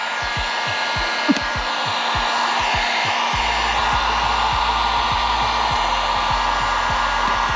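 A heat gun or hair dryer warms a vinyl decal on an RV camper for removal, blowing a steady close airy whir with a faint pulsing hum underneath, continuous and without voices.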